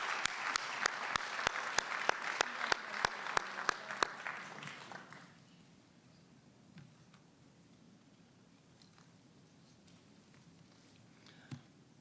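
Applause for retirees at a 2021 school district retirement celebration, a loud crowd with a few sharp claps for about five seconds that then fades out, leaving a quiet room with faint stray sounds.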